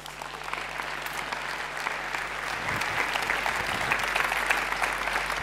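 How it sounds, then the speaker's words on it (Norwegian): An audience claps steadily for a guest, Erik Solheim, as he walks onto the stage at a science talk event, with dense, even applause building slightly in the second half. "gi Erik Solheim en god applaus på veien inn"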